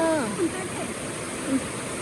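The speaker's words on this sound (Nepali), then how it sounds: "यत्रो खोला छ।" Steady rushing water from a flowing stream fills the background, with a few brief voices and chirpy calls over it.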